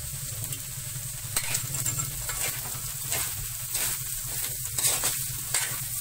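Finely minced ginger tossed into leftover lechon dinakdakan frying in a pan: a continuous close sizzle with repeated scraping stirs and clinks spread evenly across the whole stretch.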